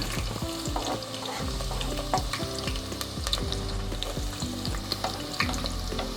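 Onion frying in a pan gives a steady close sizzle, with repeated stirring scrapes on top of it at an uneven pace; nobody speaks.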